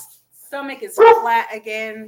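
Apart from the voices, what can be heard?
dogs barking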